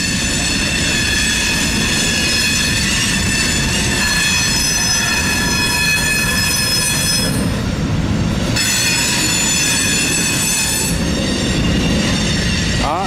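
A long, slow Norfolk Southern mixed freight train with locomotives and distributed power rolls past in Bellevue, Ohio, a loud, steady close rumble of cars with sustained high wheel squeal throughout.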